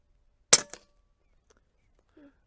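A single shot from a Huben .25 caliber airgun, a sharp crack followed by a quick echo, then near silence with a faint murmured voice at the end.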